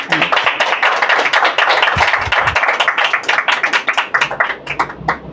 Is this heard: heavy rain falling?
no